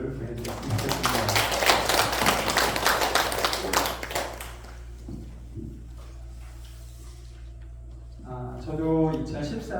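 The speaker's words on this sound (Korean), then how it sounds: "우리 모두 이분들에게 박수를 보내드렸으면 좋겠습니다." An audience at a workplace mission training class at Daejeon City Hall breaks into dense, lively applause that fades away after about four seconds. A voice then speaks over quiet room noise before a short burst of clapping returns.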